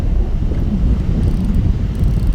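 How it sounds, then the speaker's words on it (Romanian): Strong storm wind roars over open water during a sturgeon fishing trip in America, buffeting the microphone with a steady, loud low rumble and no one speaking. "A venit furtuna pe apă."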